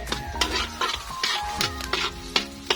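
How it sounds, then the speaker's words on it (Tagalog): Chopped garlic frying in a pan for buttered kagang crab, a close, steady sizzle broken by repeated scrapes and clinks of stirring, with a faint tone running underneath. "Hintayin lang natin maging kulay brown yung bawang guys."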